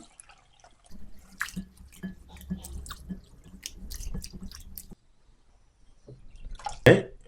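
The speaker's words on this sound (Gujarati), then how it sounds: "એને આપણે બે પાણીથી સરસ રીતે ધોઈ કાઢીએ" Moong and masoor dal being rinsed in water: close sloshing, dripping and wet squishing in short irregular bursts, then a quiet pause before a sharp final splash.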